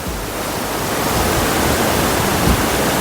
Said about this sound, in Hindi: ये वाटरफॉल नहीं है, ये शावर है।